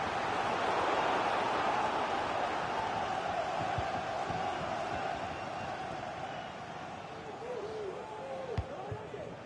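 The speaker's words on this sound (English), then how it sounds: "The crowd are certainly playing their part." A FIFA video game stadium crowd roars in a broad, continuous wash of cheering that swells loudly at first and eases slightly later, while a match commentator talks over it.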